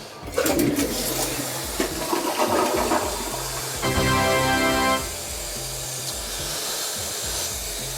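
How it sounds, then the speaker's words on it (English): A Kohler Gleam seat-height toilet flushes with a loud, close rushing whoosh of water, then settles into a steady hiss as the tank refills. "Let's flush it, see what the hell happens."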